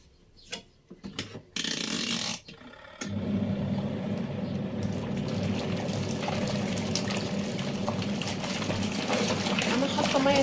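Warm water is poured over body, hair and face towels for washing. A few clattering handling knocks come first, then a steady, continuous pour runs close by and grows slightly louder.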